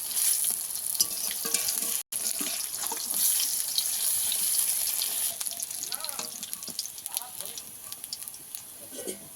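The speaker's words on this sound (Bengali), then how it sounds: "এই বড়াগুলো ভাজা হয়ে গেছে, তুলে নেবো।" Fresh prawn fritters fry in hot oil in a pan, giving a steady, close sizzle and crackle throughout, with faint voices in the background.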